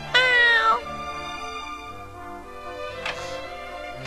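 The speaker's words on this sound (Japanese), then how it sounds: "猫" A cat in the PS2 role-playing game Dragon Quest V lets out one loud, bright meow at the start, then a shorter, fainter mew about three seconds later over a soft background melody.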